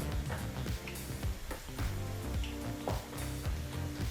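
Kodubale dough rings deep frying in oil bubble and sizzle close up, with irregular crackling pops and soft stirring knocks through the few seconds, faint overall and with no voices.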